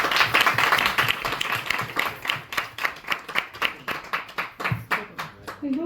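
Audience applause after a talk at a Sri Sankara Jayanthi 2025 gathering, dense clapping at first that thins into slower, distinct claps toward the end, with some murmuring voices underneath.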